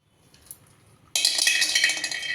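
A lid is closed and tightened on a jar of raw tamarind pickle: a faint clink, then about a second of bright scraping and grinding as the lid is twisted on, close by and alone.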